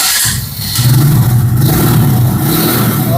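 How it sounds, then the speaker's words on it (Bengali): A used motorcycle engine, apparently a Royal Enfield, revs up and holds a throaty, rumbling thump close by, with no talk over it. "আমি ইঞ্জিন সাউন্ড শুনবেন সাউন্ডের ফেলে দেন"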